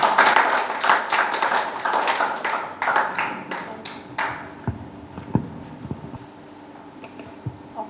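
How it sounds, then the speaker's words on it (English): A small audience claps a round of applause at a prodigy recognition event, a burst of scattered hand claps that thins out after a few seconds into sparse, isolated claps. "Please, a round of applause."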